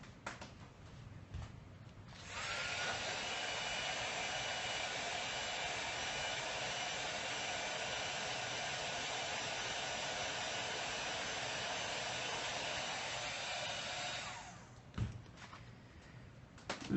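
Heat tool blowing hot air to dry ink during a craft stamping session: a loud, steady whooshing drone switches on after a couple of seconds, runs evenly for about twelve seconds, then cuts off, followed by light handling clicks.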